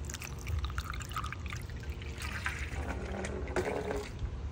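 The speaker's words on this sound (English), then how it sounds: "First thing is, let's flush what we can actually flush in the toilet." A toilet flushes a piece of toilet paper away, a steady loud rush of swirling, pouring water that continues throughout with gurgling surges toward the end.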